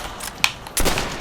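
Shots from a sniper rifle fired while quick scoping in a shooter video game, a couple of sharp reports, the second louder and trailing off briefly.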